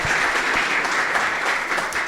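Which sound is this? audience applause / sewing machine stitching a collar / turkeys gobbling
audience applause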